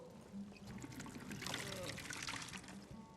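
In a Skyrim tavern, a drink trickles and pours into a mug, a soft steady stream at moderate distance with faint ambient murmur.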